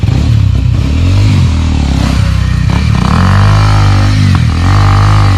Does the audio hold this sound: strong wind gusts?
no